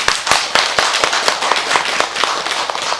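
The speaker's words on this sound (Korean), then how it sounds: "이럴 때 박수 한번 쳐줍시다" Audience clapping at a Buddhist prayer gathering, a dense run of sharp hand claps with many crisp individual strikes, close and loud throughout with no talking.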